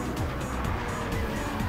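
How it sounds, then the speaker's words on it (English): Racing game car at Brands Hatch losing its rear end under braking, tires squealing and skidding over a steady engine roar before striking the barrier, loud and close throughout. "Stonecutter there just lost the back end on the braking and hit the barrier"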